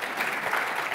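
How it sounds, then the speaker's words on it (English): Audience applause at a panel discussion on the opioid crisis, a steady wash of clapping from a crowd held at an even level throughout with no voices over it. "let's give them another round of applause"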